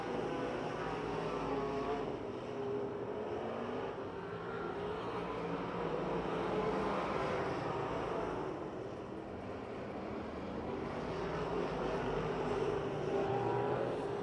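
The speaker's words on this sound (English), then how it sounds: "Chris Bassich in the 71C moves up to fourth. 1 lap to go for Chuck Kennedy" Race cars on the final lap of a dirt-track race at Pennsylvania Motor Speedway near Pittsburgh, a steady, dense engine roar that swells and fades slightly as the pack circles, heard from trackside without talk.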